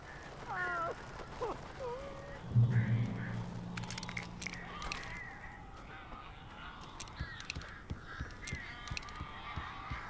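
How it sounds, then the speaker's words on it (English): Strange birds in the video game Alan Wake give a few harsh, honking caws near the start, followed by a low rumble and scattered scratchy flutters and clicks trailing off at moderate distance. "These birds are weird."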